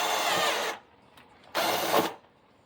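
A power drill drives self-tapping screws into a new window screen lock, two short close whirring bursts separated by a brief quiet pause.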